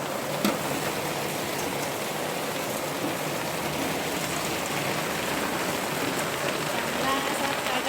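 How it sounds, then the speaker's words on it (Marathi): A constant roar of heavy rain drums on nearby surfaces, thick and unbroken for the whole stretch. "लय पाऊस आहे, लय म्हणजे लय पाऊस"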